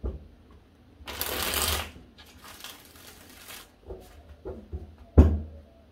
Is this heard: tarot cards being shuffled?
yes